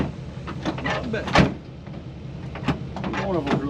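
An old truck door that needs adjusting thumps shut once, a solid clunk amid shuffling and background noise, with people talking nearby.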